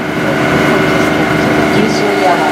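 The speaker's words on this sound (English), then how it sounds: "We're motoring down the Danube to the castle area." A river cruise boat motors down the Danube toward Budapest's castle area, its engine a steady, close, loud drone mixed with water and wind rush.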